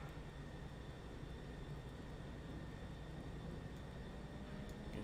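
A Douglas DC-3's right engine spins up in a flight simulator, a steady droning whine with faint high tones over a continuous low rumble, even in level throughout with no talking.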